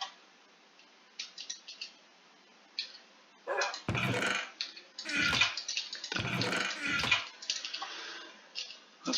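Glass bottles being filled with water in a video game: soft trickling and bubbling bursts that repeat several times, with faint ticking game sounds between them and no talk.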